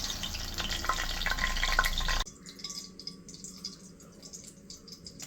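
Soya chunks fry in a hot pan with a dense, crackling sizzle for about two seconds. The sound then cuts to a quieter scene of light clinks and faint kitchen noise.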